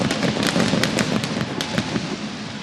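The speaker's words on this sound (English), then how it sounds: "Iglesias a little shaken up there by the fireworks." Fireworks going off at a Cincinnati Reds baseball stadium after a game, a dense run of sharp cracks and pops over a continuous roaring crowd-like wash, loud and close.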